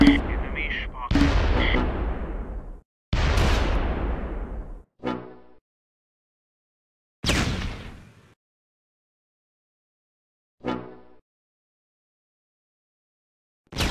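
Gunfire and artillery in the wargame Close Combat arrive as a handful of separate sharp blasts and bursts, the first ones long and rumbling, the later ones short and isolated, spaced between stretches of silence.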